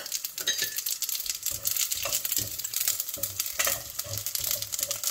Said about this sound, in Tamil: இப்போ இதில் வந்து கடுகு, சீரகம், வெந்தயம், தாளிக்கம், உளுத்தம் பருப்பு இதெல்லாம் சேர்த்துருக்குறேன்.